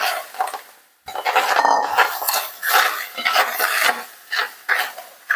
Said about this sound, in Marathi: सुरुवातीला ह्या ठिकाणी स्ट्रॉबेरी घेतलेली आहे स्ट्रॉबेरी घालून घ्यायची आहे